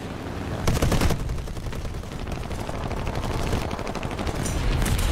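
Gunfire in a video game: a steady stream of rapid shots rattling away continuously for several seconds, loud and close, with a denser burst near the start and no talking over it.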